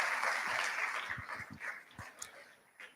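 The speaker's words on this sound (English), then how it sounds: "Please give them a round of applause" Applause at a Rotaract intercity meeting, moderate clapping that gradually thins into scattered claps, with a few low thumps and faint voices underneath.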